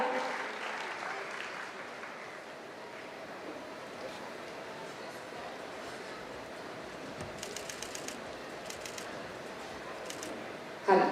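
Audience applause at a stage event, a steady sustained clapping wash from a crowd that carries on for the whole stretch, with a sharper burst of claps near the end.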